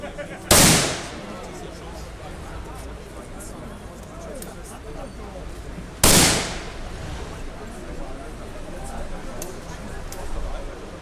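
Rifles fire at a Vogelschiessen bird-shooting festival in Neheim, two sharp loud cracks several seconds apart over a murmur of crowd noise and talk.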